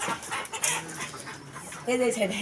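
Layer hens cluck and squawk in a quick, close burst as they are loaded into a bamboo cage, with faint voices in the background.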